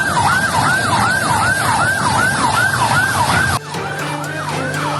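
A fire truck siren wails in a steady, loud rising-and-falling cycle, arriving at a burning minibus on Jalan Jenderal Sudirman in Pangkal Pinang, with engine rumble beneath and an abrupt cut partway through before the wail continues.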